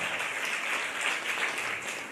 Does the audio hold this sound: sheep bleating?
no